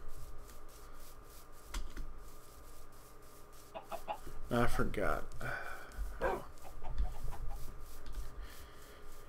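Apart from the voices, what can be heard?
chickens clucking in the video game Minecraft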